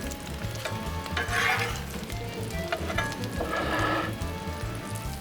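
Pizza burger buns toast on a Blackstone griddle with a close, steady sizzle and crackle, swelling into louder bursts of frying hiss a couple of times, with soft scraping clatter in between.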